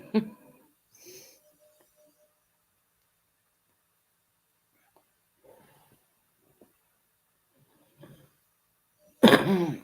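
A single sharp cough bursts out at the end after near silence, preceded by a faint breath and a few quiet soft sounds.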